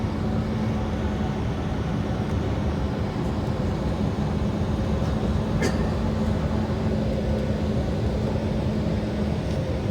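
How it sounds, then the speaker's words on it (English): An airliner rolling down the runway at IAH before takeoff, heard from inside the cabin as a steady, loud engine roar and rumble with a faint click partway through. "Driving down the runway, so we're actually getting ready to take off."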